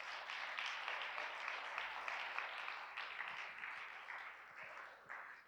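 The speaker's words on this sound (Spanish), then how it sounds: "Dale un aplauso a Dios" A congregation claps during a church service, a moderate, somewhat uneven round of hand clapping with some rhythmic patches that holds for several seconds without anyone speaking over it.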